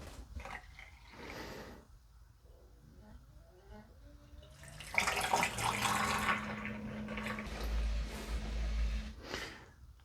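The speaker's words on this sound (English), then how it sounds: "So let's pour a glass." Homemade grapefruit cello made with zest poured from a bottle into a glass, a liquid trickle and splash building midway and running steadily for several seconds amid faint handling knocks.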